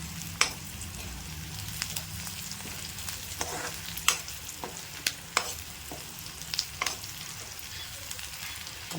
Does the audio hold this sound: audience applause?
no